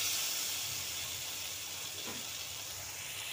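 Water hits a hot pan of frying soybean curry and gives off a steady, broad sizzling hiss of steam. The sound is fairly quiet and continuous, with no talking.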